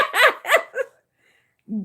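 A litter of about ten young puppies gives three quick, close whimpering yelps, then falls silent before one more short cry.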